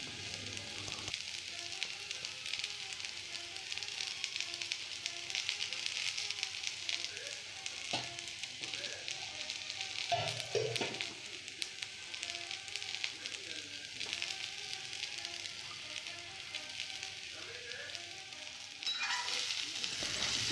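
Ground coconut and chili powder frying and being stirred in a pan for a South Indian poriyal, with a steady close sizzle and occasional scraping strokes running throughout, no voices.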